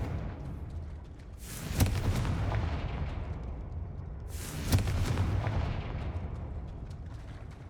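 Two deep booming explosions from the Confringo fire spell in the Hogwarts Legacy video game, each a sharp blast followed by a long rumbling decay, spaced about three seconds apart.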